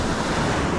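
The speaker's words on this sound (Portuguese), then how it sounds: "Olha lá, vai vir uma onda aqui, ó." Ocean surf breaking on a steep plunging beach in Ubatuba, São Paulo, a loud, continuous wash of water and hiss filling the whole stretch with no voices.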